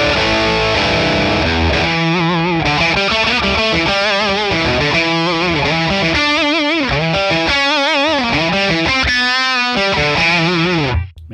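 Electric guitar, a Strat, played through a Friedman PLEX amp capture on its fat setting: thick distorted chords and riffs, loud and continuous, with no talking.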